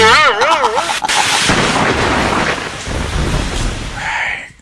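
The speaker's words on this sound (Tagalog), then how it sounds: "Kusog naman ginong ulan, ay." Heavy rain pours down loudly and close by, with deep rolls of thunder booming through the downpour before the sound tapers off at the end.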